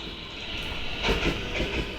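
A train rolls past in a Roblox game, a steady broadband rumble and hiss that swells slightly midway, with no talking over it.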